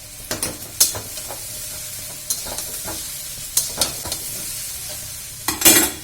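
Chow mein noodles fry in a pan under a constant sizzle, while a utensil stirs and scrapes them in several sharp bursts, close by and with no voices.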